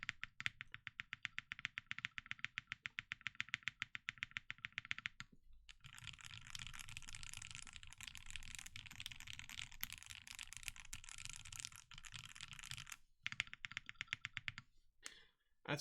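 Someone types steadily on a newly built Thera75 mechanical keyboard, giving close, crisp clacking keystrokes: first an even run of rapid taps, then a dense flurry of key presses, and finally a few isolated clicks.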